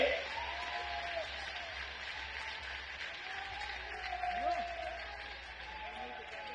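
An audience at a Hindi religious discourse gathering breaks into sustained, steady applause that fills the whole stretch at an even level, with many hands clapping together.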